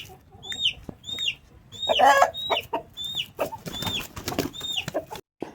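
Close-up calls of a young gamecock: short, rising clucks repeated in a quick, uneven rhythm, with no one talking.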